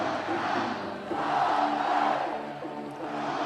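Football stadium crowd at an FCS playoff game, Georgia Southern versus ODU, roaring and building in volume, a sustained dense wall of cheering and shouting that swells toward the middle and stays loud throughout.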